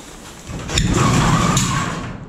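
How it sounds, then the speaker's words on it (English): A rickety door is opened with a sustained grinding scrape and a couple of clunks, loud and close, swelling and then fading. "that door is just rickety"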